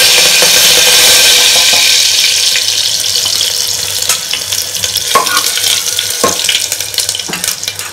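Curry leaves and a green chilli crackle and sizzle in hot oil already holding cooked cumin, mustard and fenugreek seeds, a steady close frying hiss with small pops and a few utensil clinks.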